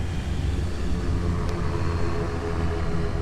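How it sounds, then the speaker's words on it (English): An airplane passes overhead, a continuous broad roar holding steady and fairly loud throughout, with no voices over it. "Check out this plane flying by"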